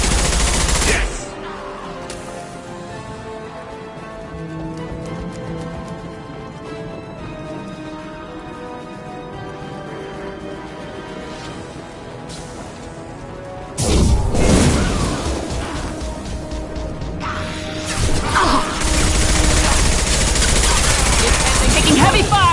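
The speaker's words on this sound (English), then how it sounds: "Taking heavy fire!" Gunfire in the sci-fi shooter game Mass Effect 2, sustained weapon bursts and booms under a continuous game score, growing louder and denser in the second half with heavy rapid fire and crashing impacts.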